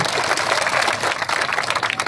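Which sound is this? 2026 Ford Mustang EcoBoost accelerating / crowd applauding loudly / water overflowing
crowd applauding loudly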